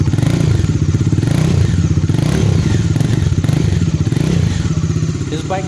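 A Bajaj Dominar 400 motorcycle idles up close, its loud, steady engine throbbing in a rapid even pulse throughout, with a few light mechanical clatters over the top.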